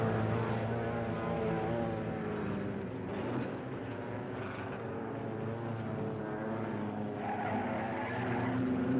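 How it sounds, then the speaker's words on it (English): A modified stock car losing control and crashing during a race, a continuous roar of engines and skidding tires running steadily throughout with no voices. "And car 92 loses control, causing a devastating crash."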